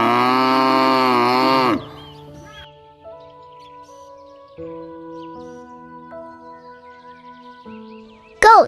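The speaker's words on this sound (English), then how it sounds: "Domestic cow." A domestic cow lets out one long, loud, deep moo lasting almost two seconds, followed by a quiet backdrop of faint sustained tones and occasional soft sounds until a short burst at the end.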